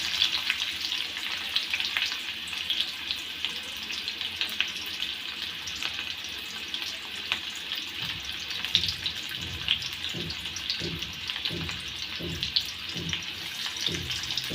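Chopped onion frying in a pan, a steady hiss of oil sizzling throughout with faint tapping or stirring knocks in the second half, no voices.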